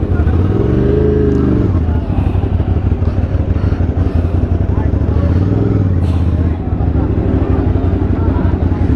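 Many motorcycles ride past at a large motorcycle gathering in the Philippines, with close, loud engine drones rising and falling over a crowd's babble.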